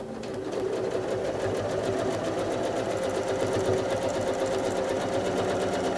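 A domestic sewing machine running steadily for several seconds while free-motion quilting pebbles and spirals on a slash star quilt block, a fast continuous close mechanical whir with an even stitching rhythm.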